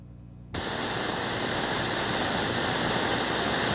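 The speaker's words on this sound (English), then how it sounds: "We're feeding white noise through this speaker to a cardioid mic." White noise played through a loudspeaker toward a cardioid microphone starts abruptly after half a second of near silence, then holds as a steady, loud, even hiss across the whole range.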